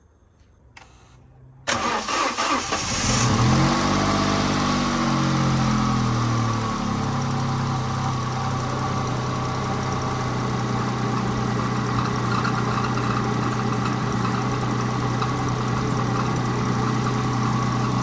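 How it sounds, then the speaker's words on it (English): An Opel/Vauxhall Corsa B engine cranks briefly after a quiet moment, catches, then settles into a steady, loud idle that holds close and continuous with no talking. "let's start the engine"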